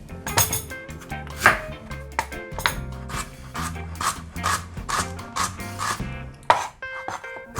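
Ginger root scraped and peeled with a spoon for Japanese soy-braised pork belly, giving a run of close, uneven scraping strokes with sharp clinks of metal against the root and dish.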